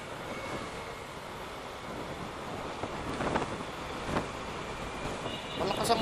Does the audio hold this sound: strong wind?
yes